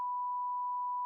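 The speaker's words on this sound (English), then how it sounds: "I feel like you should beep that." A single steady censor bleep, one unbroken tone lasting about a second, loud and alone.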